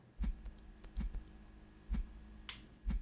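A character in the game Primal Echo claps, giving sharp, close, hollow claps spaced irregularly about half a second to a second apart over a quiet hum.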